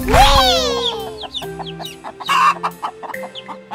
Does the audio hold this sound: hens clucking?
yes